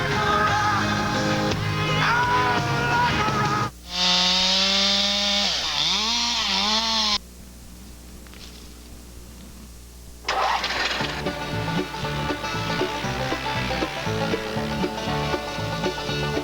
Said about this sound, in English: The DR chipper is a wonderful machine.